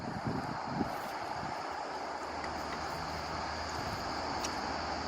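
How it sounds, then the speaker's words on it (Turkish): Steady wind blows across an outdoor dig site, a constant broad rushing hiss with low buffeting rumble on the microphone, unbroken for several seconds. "rüzgardır korkutma beni ya"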